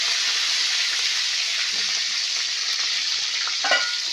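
Wet curry leaves hit a hot pan and sizzle loudly, a dense crackling hiss running throughout, with small stirring clicks near the end.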